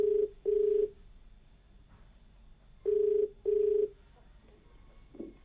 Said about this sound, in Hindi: कॉल लगाते हैं अपने पहले कॉलर को